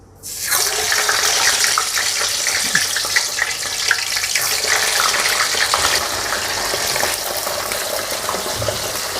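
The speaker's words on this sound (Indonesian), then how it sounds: "Sekarang saya akan goreng kentang yang sudah dipotong-potong dan dimarinasi tadi ya." Marinated, cut potato pieces drop into hot oil and fry with a sudden loud sizzle that settles into a steady, close, crackling hiss.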